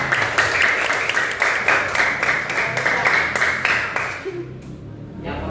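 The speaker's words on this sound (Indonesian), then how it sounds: "Tepuk tangan untuk semuanya" A group claps together in a school classroom setting, a brisk rhythmic burst of hands for everyone that fades out near the end.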